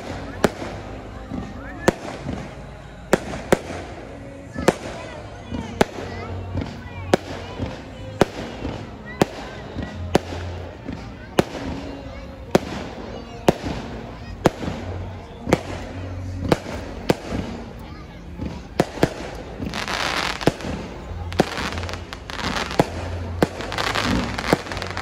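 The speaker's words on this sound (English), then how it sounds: "Now we are finishing on fireworks." Fireworks burst repeatedly at the close of a carnival, loud sharp bangs and crackles in a steady rapid series, growing denser toward the end, with crowd voices and chatter underneath.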